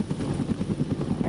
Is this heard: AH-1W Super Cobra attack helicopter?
yes